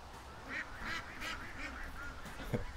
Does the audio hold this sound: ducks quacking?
yes